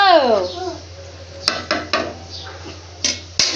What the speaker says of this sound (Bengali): এই যে আমি ডিম রান্না করছি, দেখেছো?